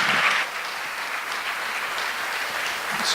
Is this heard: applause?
yes